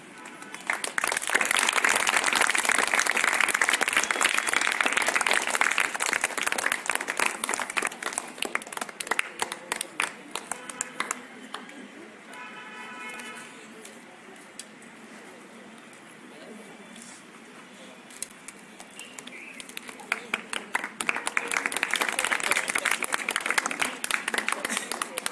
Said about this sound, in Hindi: बच्चों से कहे दरख्वास्त है कि ज़ोरदार तालियां बजाएं।